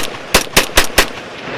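An SKS rifle caked in mud fires four loud close shots at a brisk, even pace, each crack decaying quickly before the next.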